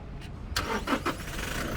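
A 2016 Toyota Fortuner VRZ automatic with the 2GD diesel engine being started: a brief starter crank catches into a steady, rumbling diesel idle, close and moderately loud, without talking.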